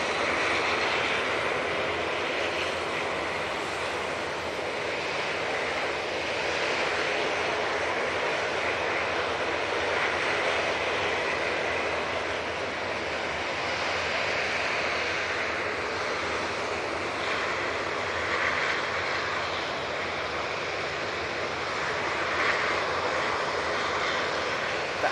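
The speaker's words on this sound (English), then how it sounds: "8 aircraft over here at the moment. That's why it's so loud." Aircraft at Manchester Airport, including airliners on the ground, produce a loud, continuous jet engine roar that holds steady for the whole stretch with no talk over it.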